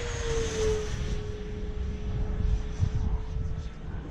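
3D printed 70mm electric ducted fan Mirage model jet flying at half power outdoors, with a steady high whine and a sustained tone over wind buffeting and rumble.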